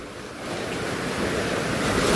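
Steady roar of ocean surf at high tide with waves crashing close by, a continuous wash of rushing water that swells louder toward the end.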